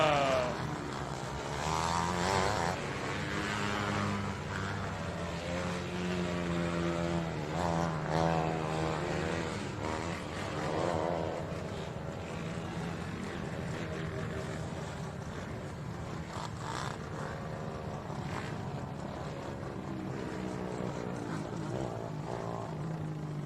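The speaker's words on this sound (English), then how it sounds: "Getting those carburetors opened up, getting the engines back to life." Dirt track race car engines with carburetors opened up, firing and revving at English Creek Speedway: a dense, continuous roar of several motors with rising and falling pitch sweeps, loud and steady throughout.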